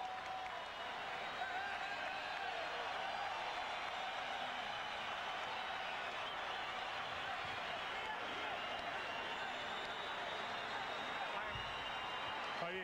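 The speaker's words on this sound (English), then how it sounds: "You hear the crowd in attendance cheering" A large crowd at a Madison Square Garden boxing event cheers and applauds in a sustained, dense roar, fairly distant and steady, with a commentator talking over it.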